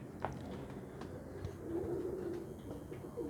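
Kept pigeons give a low, throaty coo that swells in the middle of the stretch, against a quiet background with no talking.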